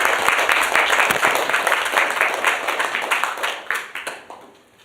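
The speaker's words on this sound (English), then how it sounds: "let's have a round of applause for Commissioner Carrie Boyer" An audience at a 20th anniversary event commemorating the April 25th Falun Gong appeal claps to welcome a commissioner to the podium, a crisp, close burst of many individual claps that tapers off and fades near the end.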